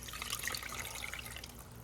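Water pours into a blender holding tomato and garlic, a steady close trickle and splash lasting a couple of seconds, fairly quiet with no voices.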